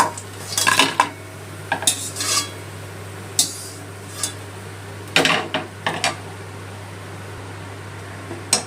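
Fried red lentil fritters being lifted out of hot oil with a metal utensil, a series of sharp clinks and scrapes against the pan over a low steady hum.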